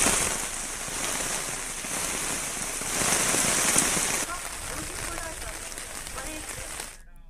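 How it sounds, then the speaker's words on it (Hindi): Heavy, continuous rain pours down over a flooded town in Kashipur, a dense, loud hiss that swells and eases without pause, with a voice talking faintly underneath. "काशीपुर में हो रही लगातार बारिश से पूरा शहर पानी में डूब गया है।"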